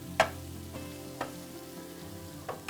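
Cheesesteak meat and onions fry in a pan with a steady close sizzle, broken by a few sharp clicks of a utensil against the pan.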